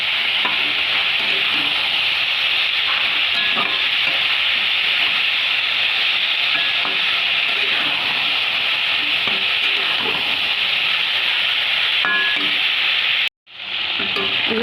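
Drumstick pieces and potatoes sautéing in a pan, a loud continuous sizzle and hiss with occasional stirring scrapes that runs steadily, breaks off briefly near the end, then resumes, with no talk.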